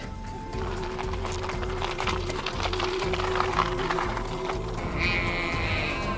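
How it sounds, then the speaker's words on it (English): Several sheep in Denmark bleat over one another, loud and close, their calls overlapping against a low engine-like drone. "Yeah, noisy sheep."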